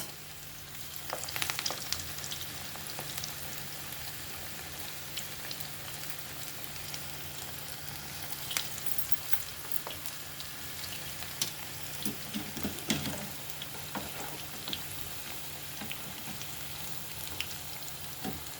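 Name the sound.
onion pakodi with field beans deep-frying in oil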